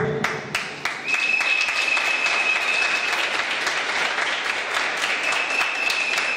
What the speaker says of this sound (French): c'est vos applaudissements qui vont me dire si je lui donne le lot ou pas